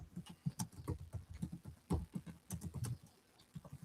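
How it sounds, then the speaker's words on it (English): Rapid, fierce typing on a computer keyboard: a dense, uneven run of close clicks and clacks with brief pauses, no voices. "I hear fierce typing."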